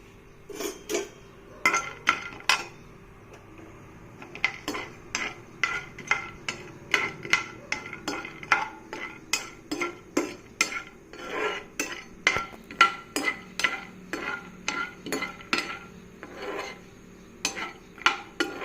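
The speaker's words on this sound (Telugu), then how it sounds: "పల్లీలు కొంచెం కలర్ చేంజ్ అయ్యేంత వరకు వేయించుకోవాలండి." Peanuts in hot oil are stirred briskly, giving a steady run of rhythmic metal scrapes and gritty rattles against the pan, roughly two strokes a second, close and loud over a faint frying hiss.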